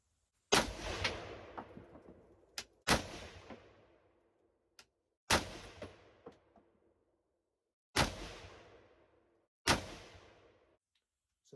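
A SIG 716i rifle firing a group at a target, five sharp shots spaced a couple of seconds apart, each with a decaying echo, with faint clicks between them.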